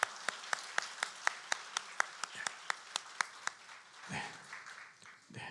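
A congregation at a Christmas service claps in a steady, evenly spaced rhythm after an infant baptism, crisp claps ringing in a church hall before fading into shuffling and murmurs.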